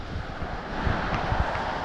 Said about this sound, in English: Waves are coming in at Lake Superior.